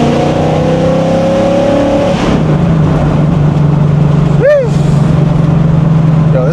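Straight-piped Ford Mustang cruising with a steady low exhaust drone, revving up early then settling into a constant rumble, with a brief passing whine midway.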